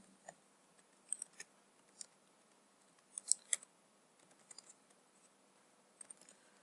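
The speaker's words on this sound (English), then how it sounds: "I'm going to type s palindrome." Quiet keystrokes on a computer keyboard while writing Python code, scattered clicks in small bursts with pauses between, fairly faint and with no talking.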